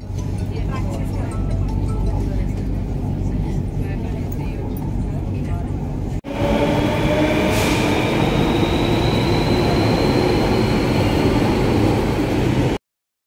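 Mumbai metro train running, a steady loud rumble of wheels on rail throughout, with a sharp rise in roar and a faint rising squeal partway through as the train moves or the doors open, then sudden silence at the end.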